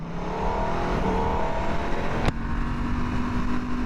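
A Norton Manx R superbike in track mode on standard road tyres rides along a closed road, its engine a continuous loud drone with a steady pitch, some wind rush and no speech.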